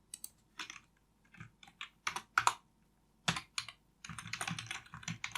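Computer keyboard typing while entering a Qlik formula, irregular bursts of crisp close key clicks with pauses between, ending in a rapid continuous run of keystrokes, with no talk.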